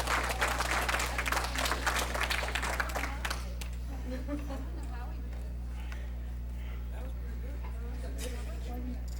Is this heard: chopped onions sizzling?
no